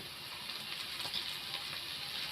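Ginger garlic paste sizzles and fries steadily in a hot pan, a constant close crackling hiss with no voices.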